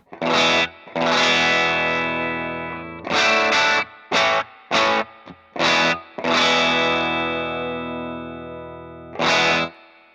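A distorted electric guitar plays sustained chords and short stabs through a Cornell tube amp with a little spring reverb, with ringing decays and gaps of silence between phrases.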